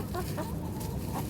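A hen clucks softly in a backyard chicken run in winter, a few brief low clucks over steady outdoor background noise.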